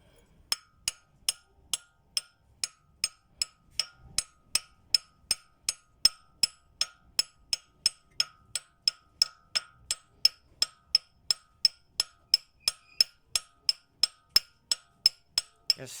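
A metal part is tapped into place on an Opel Corsa C 1.6 engine during a head job, about forty sharp, evenly spaced hammer taps ringing out close and clear over near silence.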